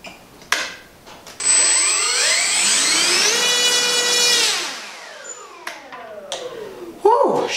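An electric RC plane motor and propeller, a FlightLine RC FW-190 on a four-cell battery, spool up to a loud, high-pitched whine, hold at full throttle for a few seconds, then wind back down.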